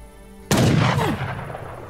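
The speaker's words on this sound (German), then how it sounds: "Schuss." A single loud gunshot in Age of Empires III cracks out abruptly after a short quiet stretch, followed by a booming echo that slowly fades.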